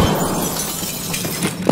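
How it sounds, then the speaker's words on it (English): A grenade blast in a first-person shooter video game, a loud, dense burst of noise lasting over a second with a sharper crack near the end, close and full. "Fucking grenade, bro."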